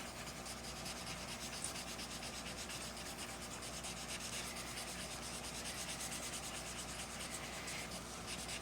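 Pencil blending on paper for a goldfish drawing, a soft continuous rubbing with quick, fine back-and-forth strokes, close and quiet, with no voices.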